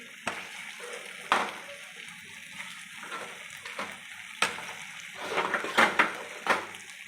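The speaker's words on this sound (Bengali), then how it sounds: "এবার যে ভেজে রেখেছি সেই চিকেনগুলোও দিয়ে দিচ্ছি" Fried chicken being added to a yogurt and kasuri methi masala in a pan, with a low sizzle broken by several sharp splashy bursts and clattering stirs, close and fairly quiet.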